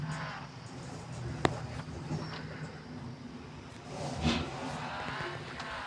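A Daewoo Nexia car drives along a street: a faint, steady broadband road and engine rumble, with a brief sharp knock and a slightly louder swell near the end as traffic passes.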